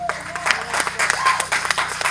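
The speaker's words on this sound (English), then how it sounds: "let's just give Jesus a big hand clap" Church congregation giving a hand clap, a burst of mixed applause and scattered claps with voices and cheers mixed in, fairly close and lively.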